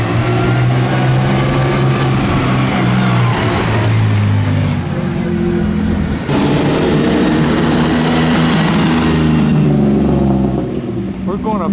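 A vintage Alfa Romeo in the Mille Miglia road race drives uphill, its engine droning loud and continuous as it labors and shifts, with people talking over the steady mechanical roar.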